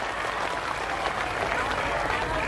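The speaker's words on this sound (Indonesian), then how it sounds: "Tepuk tangan dulu." An audience applauds at a police event, a dense, steady clapping crowd throughout, with speech mixed in.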